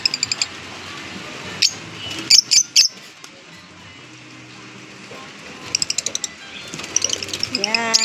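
Small birds chirp and tweet in short bright bursts at feeding time, scattered calls near and far over a steady background, with a few quick clustered chirps and soft rustling.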